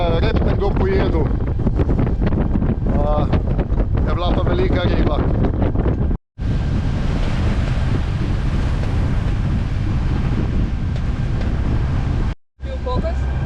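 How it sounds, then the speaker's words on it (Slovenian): Strong wind buffets a sailing boat, roaring loudly and continuously against the microphone with a brief break or two, while a voice speaks over the gusts early on. "Znači pa piha, res piha danes."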